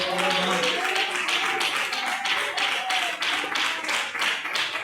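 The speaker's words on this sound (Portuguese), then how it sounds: "Pode bater palmas para o Senhor." A church congregation claps for the Lord in a steady rhythmic beat during a worship service, with a voice or music running underneath.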